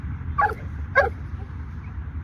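A pitbull or dogo argentino gives two sharp barks about half a second apart, fairly close, over a steady low rumble of street background noise during a walk.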